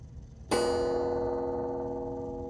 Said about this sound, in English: let's see if the clock chimes.